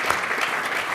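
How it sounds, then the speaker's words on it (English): A forum audience applauds its panelists after an infrastructure discussion, a dense burst of steady clapping that fills the short moment. "If you could just join me in a round of applause for our panelists."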